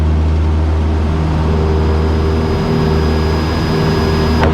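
A small airplane accelerates on a soft grass or dirt field during takeoff, its engine drone loud and steady from inside the cabin, with a rising whine over a deep rumble.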